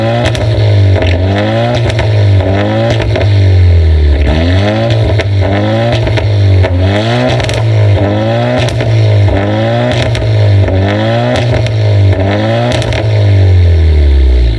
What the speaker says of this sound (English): I'll rev it for you guys. See how it sounds with the front pipe.